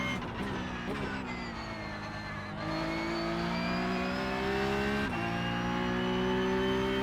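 A race car engine in a sim racing game accelerates hard on a push lap, its pitch climbing steadily with two quick gear shifts. It is loud and continuous, with no talking.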